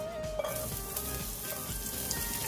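Garlic sizzles steadily in hot oil in a pan, a continuous close frying hiss with faint crackles and no talk.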